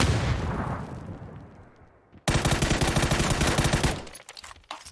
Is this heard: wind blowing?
no